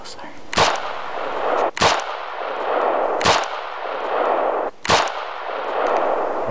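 Four sharp, loud rifle shots fired at a bull moose during a hunt in Alaska, spaced about one to one and a half seconds apart. Each crack is followed by a rumbling echo over a steady outdoor background.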